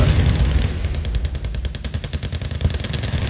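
Infantry fire on tanks in the Wargame video game, a dense rattling stream of rapid gunshots and machine-gun bursts that runs without a break, loud and close, with no speech.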